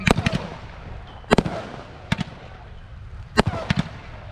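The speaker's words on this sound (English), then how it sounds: "fireworks" A 200-gram consumer firework crackles and pops in the rain at a distance in scattered sharp bursts, a few clustered together, with quieter rumbling in between.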